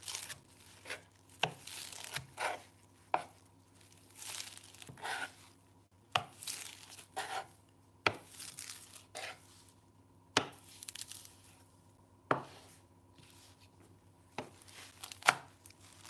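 Leaves being chopped with a knife on a board, a steady series of crisp, close chops with short tearing crunches, some in quick bursts and others spaced apart, over a faint low hum.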